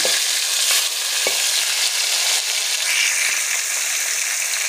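Fish pieces sizzle steadily in hot oil in a pan, a bright, continuous frying hiss with a few soft stirring clicks.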